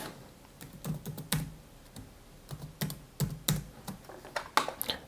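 Quick bursts of typing on a computer keyboard, crisp key clicks in short irregular runs with brief pauses between, close and clear with no voices.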